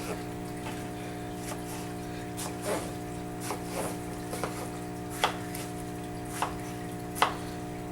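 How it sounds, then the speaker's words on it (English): Sparse knife strikes chopping watermelon on a cutting board, a few sharp taps spaced irregularly over a steady background hum, fairly quiet and close. "We're just chopping, chopping, chopping."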